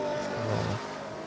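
A loud car sweeps past at the Goodwood Festival of Speed, its engine note rising and falling as it goes by, close and unaccompanied by talk.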